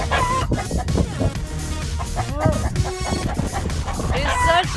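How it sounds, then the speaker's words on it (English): A large chicken clucks several times alongside dog-like barks and yips in a busy backyard setting, with a person talking over the animal sounds throughout. "He's such an awesome chicken."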